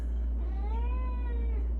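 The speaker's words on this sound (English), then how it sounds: "Bella is here with us, my cat. She's saying hi." A cat meows once in a long, drawn-out, wavering cry, close by, over a steady low hum.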